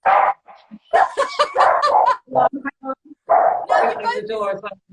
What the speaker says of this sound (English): Can you hear our dog?